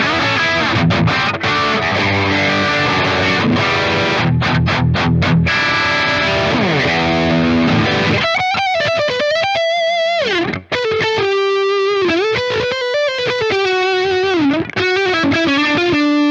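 Loud distorted electric guitar from a Gibson SG Standard, heavy chugging chords at first, then sustained bending lead notes ringing out alone.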